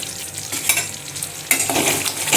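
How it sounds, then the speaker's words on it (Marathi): Creamy Afghani egg curry stirred in a pan on the stove, a scraping, bubbling sizzle with irregular spoon strokes close by, growing a little louder partway through. "आता हे छान ढवळून घेऊया आणि गॅस बंद करूया"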